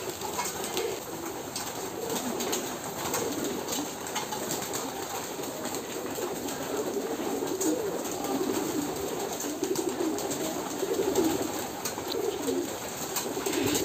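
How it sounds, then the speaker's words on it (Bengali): Pigeons in a loft of more than 230 birds cooing softly, a continuous low murmur of overlapping coos with occasional wing flaps, fairly faint and steady. "কবুতরগুলা।"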